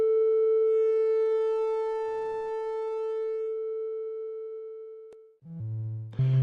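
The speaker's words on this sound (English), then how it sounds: "The result is a sound which is a bit richer, fuller than the sine wave, the pure sine wave." A SoloRack synthesizer's analog sine wave oscillator, rectified for a richer tone, drones as a steady pure tone that fades slightly, then gives way to a brief shift into lower buzzy pitches.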